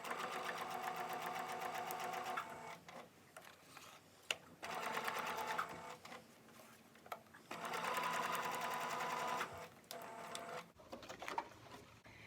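Sewing machine stitching through card stock for a gift tag, running in three steady bursts of rapid needle chatter separated by brief pauses and handling clicks.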